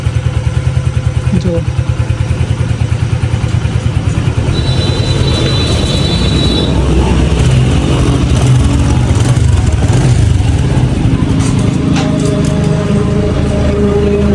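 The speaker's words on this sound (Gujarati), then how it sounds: "બાઇક કમ્પ્લીટ સ્ટાર્ટ તો થઈ ગઈ છે" A motorcycle engine running after a rebuild, idling with a steady close putter and mild revving throughout, while someone speaks over it.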